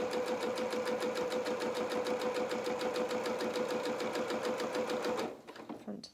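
A sewing machine stitches the hem of a doll-sized highland cow jacket in a fast, regular run of close mechanical beats that stops abruptly near the end, leaving a brief quiet rustle.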